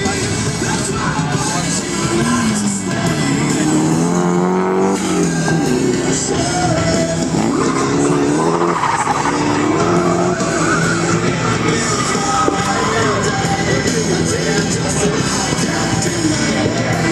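At a Houston drift event, drift cars skid continuously with loud, sustained tire squeal and roaring engines, the screeching shifting in pitch over a long, unbroken stretch of track noise.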